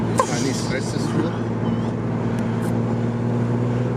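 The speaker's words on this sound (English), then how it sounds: "The turbo sounds crazy." An RB30-engined R33 Nissan Skyline idles with a steady low drone, turbo whistle rising faintly above it, while people talk nearby.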